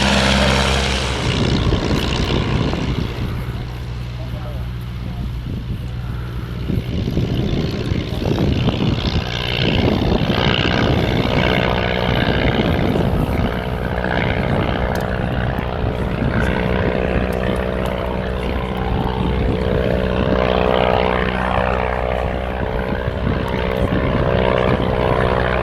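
An Avro triplane with freshly re-covered wings flies with its propeller engine droning steadily, loud and continuous throughout, the pitch shifting slightly as it passes, at a Shuttleworth season premiere air display.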